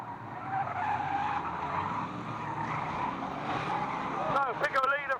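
Race cars at Fleet Raceway skidding and spinning amid a crash, with a sustained engine roar and tire noise, then sharp squeals near the end, under an announcer's talk.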